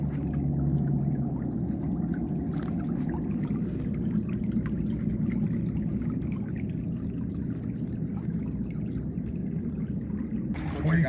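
Water gushes from a broken water main saddle early in the morning, a steady, loud roaring rush that holds unchanged throughout with no pauses.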